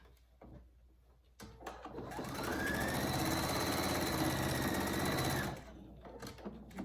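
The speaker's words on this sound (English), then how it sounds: "I'm just going to fold that back under and then just sew back on top of it." A sewing machine stitches a fabric pouch for a rescue microbat, running in one steady loud burst of about three seconds between quieter handling noises.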